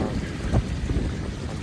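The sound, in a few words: strong wind during flooding after Hurricane Idalia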